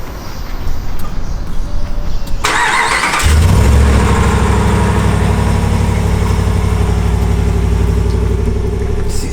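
The stock exhaust of a 2019 Ram Rebel pickup with a 5.7-liter engine: a starter crank, then a loud engine catching and settling into a steady, deep idle, heard close and alone.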